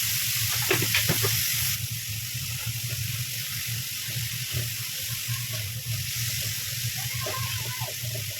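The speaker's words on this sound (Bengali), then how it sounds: "চলো এদিকে চিকেনটাকে ভালো করে ফ্রাই করে নিচ্ছি" Chicken sizzles and fries in a pan with a steady hiss, with occasional stirring clatter close by.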